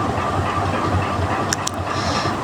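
Meat dropped into hot oil in a home kitchen, a steady, close, loud sizzle and hiss lasting the whole moment, with a few faint higher clinks near the end.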